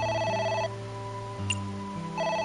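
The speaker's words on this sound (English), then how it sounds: "phone is ringing" A telephone rings in the video game AI: The Somnium Files, a steady electronic ring tone in repeating bursts with a sustained tone between them, heard alone without talk.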